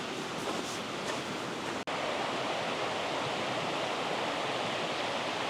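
A river in Llangollen rushes steadily in a dense, unbroken wash of flowing water, moderately loud and close, with no voices over it.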